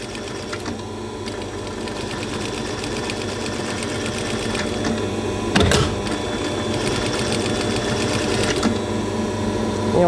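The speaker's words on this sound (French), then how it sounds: "Et là, on va piquer tout le long." A sewing machine stitching a long seam along a marked line while making a 1900-style headdress, its fast, even mechanical whir running close and loud, with a brief clunk partway through.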